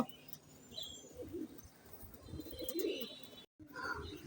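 Pigeons, including khaki, babra and safchila breeds for sale, coo softly in low repeated bursts alongside a few chirps, close by with background hiss and a brief dropout near the end.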